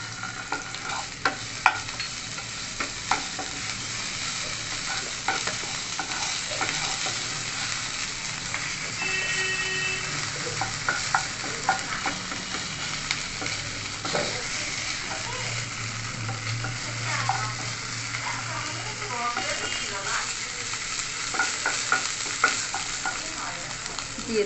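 Ginger and garlic frying in a pan for palak paneer, a long, steady crackling sizzle with occasional stirring scrapes and taps throughout.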